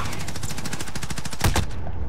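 Video-game gunfire attributed to a .357 revolver: a fast, steady train of loud shots for about a second and a half, capped by a heavier, booming blast before the sound tails off.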